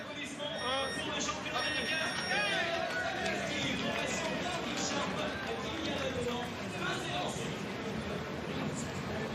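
Crowd cheering and shouting at a cycling time trial at the 2012 Tour de France Prologue as Dave Zabriskie starts his ride. A dense, lively roadside roar runs throughout beneath a commentator's voice, with a bell-like ringing tone near the start.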